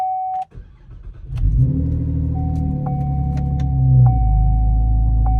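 A 2008-2014 Cadillac CTS with a 3.6L engine is cranked and started, settling into a loud, steady idle rumble close to the microphone, with a faint whine from a brake booster vacuum hose fault.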